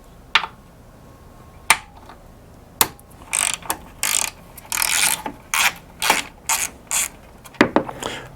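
Ratchet on a 10mm socket backing out a fender bolt on a Jeep JL, heard as close, crisp bursts of clicking in a steady rhythm, with a few sharp single clicks before and after.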